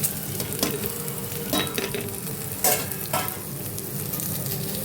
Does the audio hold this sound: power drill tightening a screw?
no